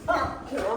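Golden retriever puppy yipping during a bath, two short high yips in quick succession, close and clear.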